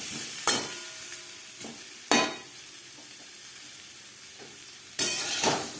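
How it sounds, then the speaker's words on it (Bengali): Small peeled boiled potatoes frying in oil for mutton biryani make a steady crackling sizzle, broken by three sharp spatula scrapes and clanks against the pan, close and with no voices. "আলু ভেজে নেওয়া হয়ে গেছে।"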